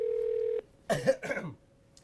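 A short electronic telephone ring tone sounds once, then breaks off, followed by a brief cough in a quiet room.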